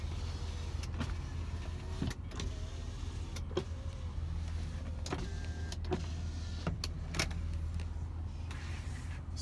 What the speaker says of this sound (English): Go ahead and start off here with the power windows.